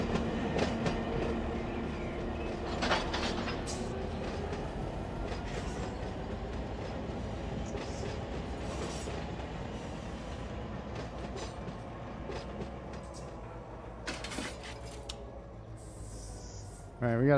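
Freight cars rolling on rails during yard switching on the Los Angeles Junction Railway in the Run 8 railroad simulator game, a steady low rumble with faint clicks and metallic squeals, continuous throughout.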